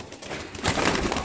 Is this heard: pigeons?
yes